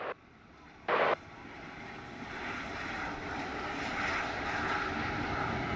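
An airliner on approach to runway 07 at Sangster International Airport in Montego Bay, its jet engines a steady, fairly distant roar that swells gradually, with a brief burst of noise early on and no voices.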